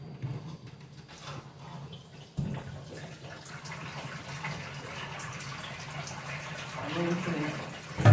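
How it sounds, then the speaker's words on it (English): Water poured over washed sorrel in a kitchen, a soft steady splashing and trickling that grows fuller toward the end, with faint background noise. "I'm gonna pour water again on top of it."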